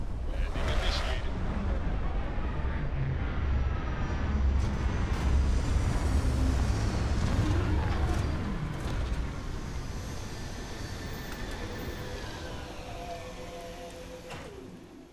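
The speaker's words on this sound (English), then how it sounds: "Landing initiated." A spaceship lands in Starfield with a continuous broad engine roar and rushing wind-like whoosh that swells then slowly eases off, with a voice speaking briefly over it.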